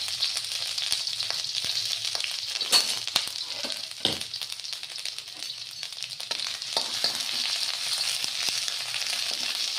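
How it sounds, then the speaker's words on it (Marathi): Garlic and ginger paste sizzles in hot oil for a chowmein noodle stir-fry, a steady close-up frying hiss throughout with a few faint clinks and no talking. "आता मी यामध्ये लसूण टाकत आहे आणि अद्रकचा पेस्ट टाकत आहे"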